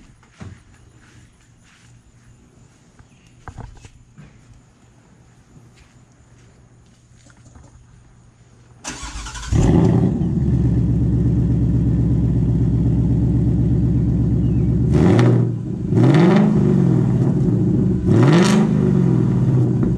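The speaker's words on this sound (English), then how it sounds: "I'm going to get in and crank it up and let you listen to what it sounds like in sport mode" A 2021 Ford Mustang Mach 1 with an X-pipe exhaust, set to sport mode, cranks and roars into a loud, deep idle after quiet cabin shuffling. Three sharp revs then rise and fall near the end.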